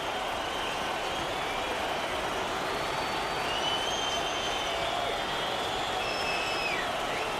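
Large baseball stadium crowd of over 45,000 cheering and applauding at an Oakland Athletics game in 2010, a dense, steady roar of voices and clapping filling the space, with a few whistles rising above it.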